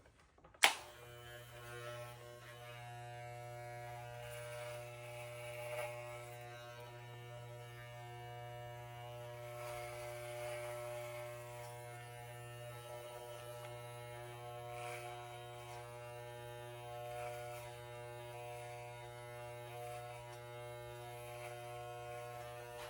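Electric clippers trim the hair on a deer hide for an archery tab, giving a steady close buzzing hum with a faint harmonic whine that runs nearly unchanged, after a short knock at the start.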